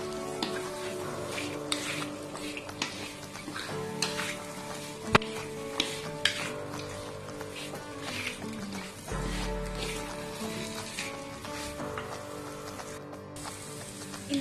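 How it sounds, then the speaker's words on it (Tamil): Brinjal, potato and radish sauté with onion in a pan over lowered heat, giving a continuous soft crackling sizzle like light rain, broken by a few sharp clicks of stirring, with no voice heard. "அடுப்பை கொஞ்சம் குறைச்சு வச்சுட்டு வதக்குங்க"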